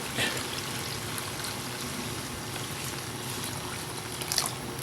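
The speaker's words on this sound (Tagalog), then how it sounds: "Lagyan na natin ng ating tubig." Water pours into a pot of mung bean soup on the stove, a steady trickling splash close by that runs continuously at low level without talk.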